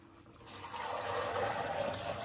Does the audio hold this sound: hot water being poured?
yes